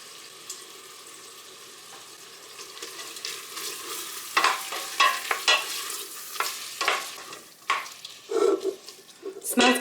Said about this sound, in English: I'm ready to add the sausages.